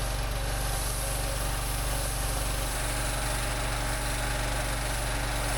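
A machine drones steadily and continuously throughout at a moderate distance, with a constant low engine hum and a broad hiss of water while driveway retaining walls are rinsed down.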